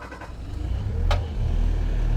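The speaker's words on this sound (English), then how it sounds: "We're going to start this up, run it, show you everything it's supposed to do." A 2017 Bobcat S595 M Series rubber-tire skid steer loader with backhoe cranks and its diesel engine catches in cold weather, settling into a close, loud, steady idle rumble.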